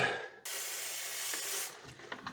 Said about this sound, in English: You just spray it until you see that it is clean